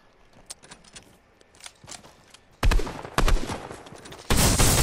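Shotgun blasts in the video game Fortnite: after a stretch of quieter clicks and distant shots, three loud, close blasts land, each followed by a short rattling tail.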